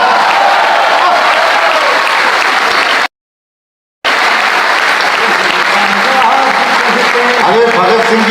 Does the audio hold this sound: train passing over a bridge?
no